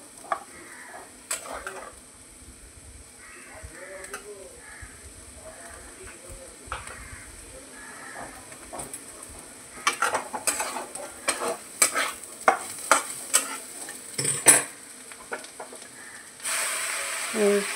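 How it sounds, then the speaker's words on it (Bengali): Potato pieces fry in a pan while a utensil stirs and scrapes them. A faint sizzle runs under intermittent clattering strokes that grow louder and busier toward the end, with some quiet speech in the background. "এদিকে আমার আলু ভাজাটা হয়ে এসছে।"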